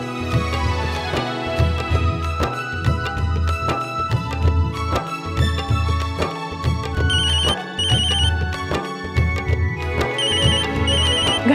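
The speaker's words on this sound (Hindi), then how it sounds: "घर से फोन है।" A telephone ringtone for an incoming call from home plays loudly and alone, a repeating melodic tune with steady electronic chimes cycling for several seconds without a break.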